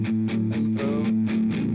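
A distorted electric guitar chugs out a short riff of rhythmic, repeated palm-muted hits under a steady held tone, played close and loud with no voices.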